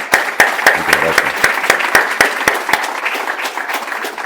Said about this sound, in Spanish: un aplauso para Oscar Mario, por favor